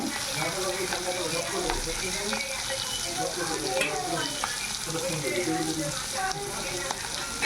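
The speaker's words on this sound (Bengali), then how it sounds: "মাছগুলো এইভাবে ভেজে নেব" Prawns frying in a pan for a Bengali prawn malai curry, a steady dense sizzle with scraping stirs and some water-like splashes, moderately loud throughout, with faint background voices.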